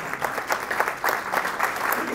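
Applause from an audience at a community diversity speaker-series talk, steady mid-level clapping that holds evenly without a clear end.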